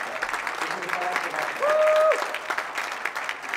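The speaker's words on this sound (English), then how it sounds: "Please, can you just give a round of applause?" An audience at a product launch event breaks into sustained applause, a dense continuous clapping that fills the whole stretch, with a brief tonal whistle or feedback squeal midway.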